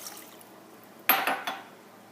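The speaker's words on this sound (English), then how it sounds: "So we're going to put 1 1/4 water in your pot" Water pours into a cooking pot for mashed potatoes after a quiet pause, a short, fairly loud splashing burst that quickly dies away.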